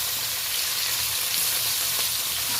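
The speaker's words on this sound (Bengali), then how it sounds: "যে কোনো মাছ রান্নার ক্ষেত্রে তেলটা ভালো করে গরম করে নেবেন তাহলে মাছটা ভাজতে সুবিধা হয়" Small topse fish fry in well-heated oil in a kadai, giving a continuous, even sizzle that is close and moderately loud with no voices.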